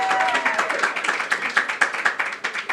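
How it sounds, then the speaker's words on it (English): An audience at a panel on the Hollywood industry claps, starting as a loose patter and settling into a steady rhythmic beat of individual claps, with a brief vocal whoop at the start. "A round of applause for all of you."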